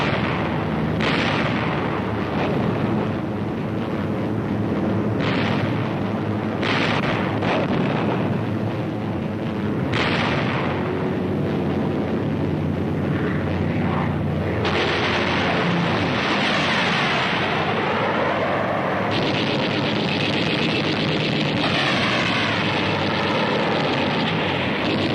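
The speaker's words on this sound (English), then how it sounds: "500-pound bombs are skipped into the sides of the Japanese ships" 500-pound bombs burst against Japanese ships in the WWII Pacific, heavy booming blasts landing one after another in a loud roaring barrage over a sustained rumble.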